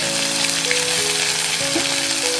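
Ginger and green chilli paste sizzles lightly in hot oil in a pan, a steady soft crackling fry with faint tones in the background.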